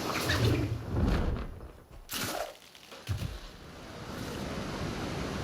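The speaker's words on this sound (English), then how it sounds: "you can hear it right away, is the waterfall sound" A waterfall near a base in the video game ARK: Survival Evolved produces a steady, broad watery rush at moderate level, with a few louder surges early on that settle into an even roar.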